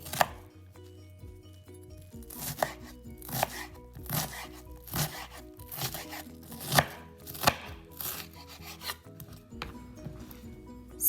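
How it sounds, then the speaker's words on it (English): A knife chops onions repeatedly on a cutting board in an irregular rhythm of sharp, close taps, with some scraping between strokes. "I'll be chopping my onions and I'm gonna cut them in bits."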